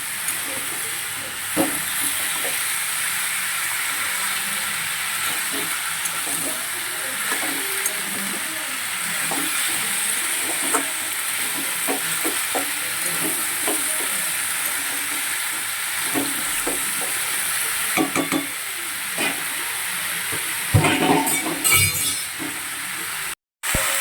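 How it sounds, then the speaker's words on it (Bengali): Potatoes stirred and fried in a pan for a Bengali curry, a steady hissing sizzle running throughout with scattered light scrapes and a few clinks of utensil against the pan, close by and without speech, ending abruptly. "দেখো 2 থেকে 3 মিনিটের মতন আমি আলুটা একটু নেড়ে ছেড়ে নিয়ে"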